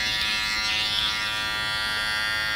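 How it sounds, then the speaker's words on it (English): A steady electric hair trimmer buzzes close and continuously during a men's haircut, with no pauses or speech. "trim on the opposite side, trim like this"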